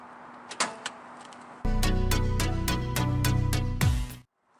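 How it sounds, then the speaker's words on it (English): The hood of a 2003 Pontiac Vibe GT is released, with a few light clicks followed by a loud, steady mechanical whir that cuts off abruptly. "I'll pop the hood."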